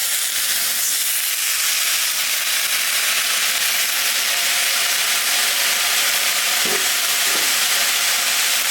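Fresh spinach goes into a pan holding a frying rohu fish head, making a loud steady sizzle and hiss that lasts the whole time, with a couple of faint clicks of utensils near the end.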